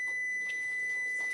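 A loud, sustained high-pitched electronic beep from an air fryer, holding steady before cutting off at the end.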